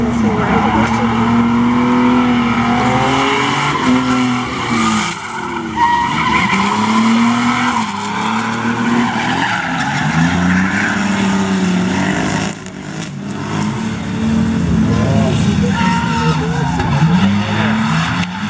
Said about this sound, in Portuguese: Esse flutter do carro daí é bonito demais